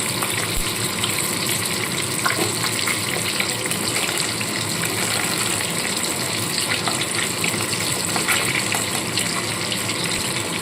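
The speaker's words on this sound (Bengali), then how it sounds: "দু পিঠটাই হালকা করে ভেজে মাছগুলোকে তুলে নিতে হবে" Pieces of katla fish fry lightly in a pan of oil, giving a loud, steady broadband sizzle that hisses continuously like rushing water, with no talk over it.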